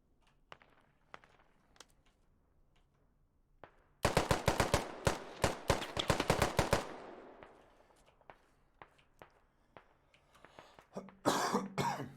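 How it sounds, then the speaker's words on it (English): A commentator coughs in a rapid, loud burst of hacking lasting a few seconds, then clears his throat with softer intermittent coughs and a final harsh cough, heard close to the microphone during an esports match broadcast. "Sorry, I've got a bad cough at the moment."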